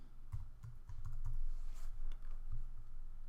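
Light computer keyboard typing while renaming a node in DaVinci Resolve Fusion: a handful of soft, irregular key taps close by over a low background hum.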